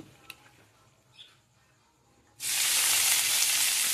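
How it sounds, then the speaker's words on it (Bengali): Drumstick flowers drop into hot oil for a Bengali dish, bursting into a loud, steady sizzle after a few faint clicks and light kitchen sounds. "আমি কিন্তু সজনে ফুলগুলোকে ভেজে নিচ্ছি বন্ধুরা"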